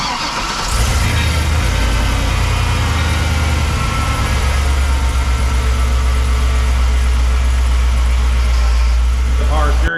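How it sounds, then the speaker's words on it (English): An LS-swapped 1980 Chevrolet K10 pickup with a freshly replaced remanufactured power steering pump cranks and fires up near the start, then settles into a steady, loud, close idle with a deep low rumble for the rest. "we're gonna just get this one going and see how it sounds."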